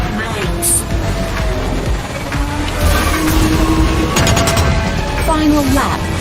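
Rocket and mine weapons firing in the Wipeout anti-gravity racing game: loud layered blasts and bursts over constant engine roar and game audio, under a voice talking.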